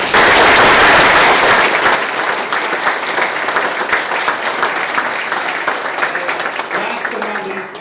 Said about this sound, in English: So please join me in recognizing all of them with a big round of applause.